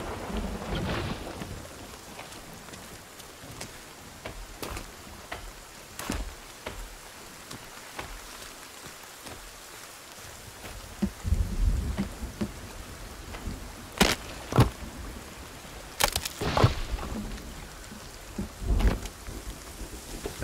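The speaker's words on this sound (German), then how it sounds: "es hört sich an, als wäre es wirklich das Gewitter hier bei mir" Steady rain falling with repeated sharp cracks and rumbles of thunder in the video game Sons of the Forest, the storm sounding close and recurring every few seconds throughout.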